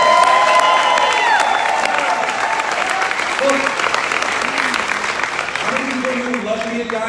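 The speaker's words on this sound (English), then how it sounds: "Can I hear a little freaking applause?" Audience at a business meeting applauds, a loud dense wash of clapping with a few cheers and voices mixed in, sustained throughout.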